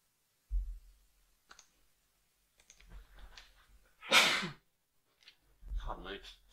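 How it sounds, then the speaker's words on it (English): A single sharp, loud sneeze bursts out in a quiet room, standing alone between short stretches of a man's speech during a horse racing preview. "Very bad to sneeze."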